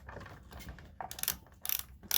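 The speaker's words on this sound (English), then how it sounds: "So I'm just unscrewing them a few, making sure that they're out the top there." A hand ratchet clicks in short bursts while bolts are backed out a few turns from a wooden van floor in a Toyota Hiace camper conversion, loud and close with no talking.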